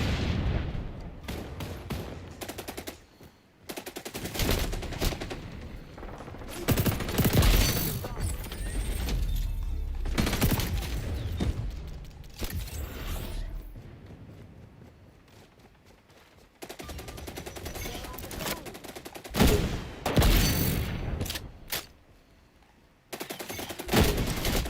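Gunfights in the video game XDefiant: rapid automatic fire and shots crackle in bursts, loud and close, with a quieter lull midway before heavy firing resumes and voices talk underneath.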